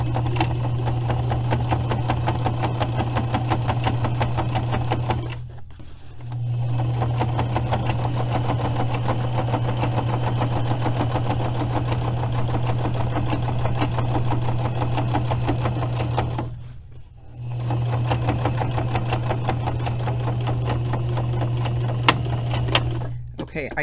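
A sewing machine stitches the long edges of a patch over a hole in a jacket pocket, just inside chalk marks. It runs as a steady, close whirring hum with two short pauses, and a voice talks over it.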